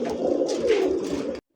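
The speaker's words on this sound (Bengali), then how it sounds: "লাল টকটকে একটা বোম্বাই কবুতর" A red Bombay pigeon coos nearby in a low, throaty, continuous rolling call of moderate loudness, heard alone with no talking, ending sharply.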